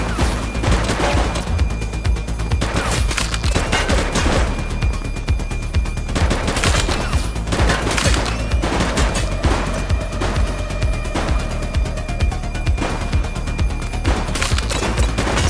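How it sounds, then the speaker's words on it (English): Sustained gunfire in a police shootout in the video game The Precinct: rapid, dense bursts of shots and crackling volleys run loud and continuous throughout, with no speech. "Shots fired!"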